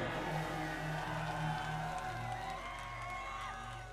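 A live concert crowd at a show claps and cheers for the singer's father, a broad wash of clapping and whoops held at a steady level throughout.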